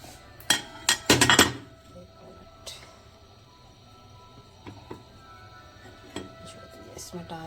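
A spoon clinks against a dish in a quick cluster of bright taps while ground garam masala and other spices are mixed into yogurt for fried kofta curry, then a few faint scattered clinks follow.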